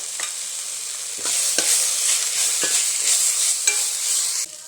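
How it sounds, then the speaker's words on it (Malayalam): Onions sautéing in a pan with salt and torn curry leaves for chicken curry, a continuous sizzle broken by several sharp scraping stirs of a spoon against the pan, close and loud, with no voices. "സവാള പെട്ടെന്ന് വഴറ്റി കിട്ടാൻ വേണ്ടി നമുക്കൊരു കാൽ സ്പൂൺ ഉപ്പ് കൂടെ ചേർത്തേക്കാം"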